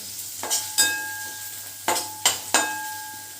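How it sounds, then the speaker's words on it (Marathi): Chopped onion is stirred in a pan of oil over a high gas flame for soya chilli. Five sharp metallic clinks and scrapes ring out close and irregularly over a faint background sizzle. "मोठा चिरलेला आहे तो कांदा मी टाकून घेते थोडंसं आपल्याला गॅस आता मोठा करायचा आहे व्यवस्थित फ्राय करून घ्यायचे"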